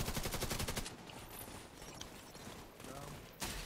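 Gunfire aimed at a boss in a shooter video game, a dense continuous rattle of rapid shots with automatic bursts, steady and fairly loud, while players talk over it.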